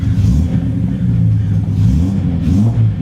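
A Datsun 240Z S30 Fairlady Z engine idles close by after the choke is pushed back, giving a loud, steady low rumble with slight rhythmic wavering and no talk over it.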